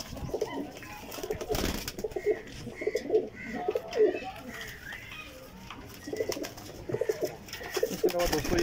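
Pigeons coo repeatedly in soft, throaty bursts, several large Salara pigeons overlapping at close range with a faint rustle in the background.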